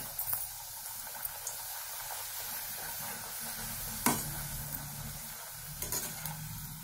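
Rolled puris made from mixed flour fry in hot oil, giving a steady soft sizzle and bubbling, with occasional faint clinks and stirring noises nearby and no talking.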